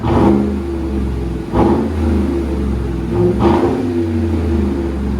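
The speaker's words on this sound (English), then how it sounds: "Chevy Suburban lifted. That's what it sounds like." A lifted Chevy Suburban with a 5.3L V8 revs hard three times in a row, each burst rising to a loud roar before dropping back to a rumbling idle, close and without talk.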